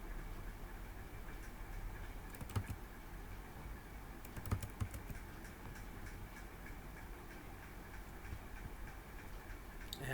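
Computer keyboard typing during a coding session, faint scattered keystrokes in short clusters over a low background hum, quiet and close.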